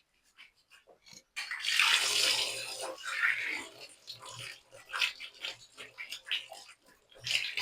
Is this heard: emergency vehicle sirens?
no